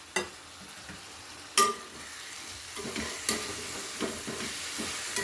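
Jowar rava being poured into a hot frying pan and stirred, with a steady sizzle broken by several sharp scraping knocks of a spatula against the pan at irregular intervals, with no talking.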